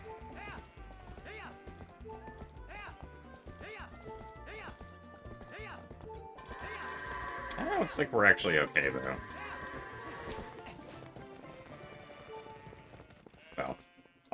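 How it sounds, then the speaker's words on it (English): Goats in Twilight Princess HD bleat repeatedly in a steady rhythm while hooves clatter as they run and bunch up toward a pen, rising to a busy burst of cries midway, with a person talking over the game sounds. "all the goats didn't get into the pen as quickly as I was hoping for"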